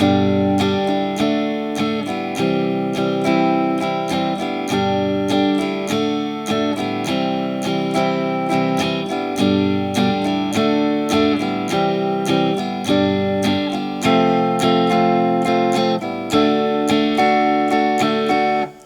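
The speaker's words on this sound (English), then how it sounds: "And just to give you an example with some bigger sounding strumming, it might sound like this." Full, ringing acoustic guitar chords of a song strummed steadily and strongly in a regular rhythm, loud and close, with chord changes every few beats.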